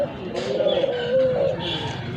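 A dove at a pigeon market gives soft, low cooing calls over a couple of seconds, close by, with people talking and background market noise.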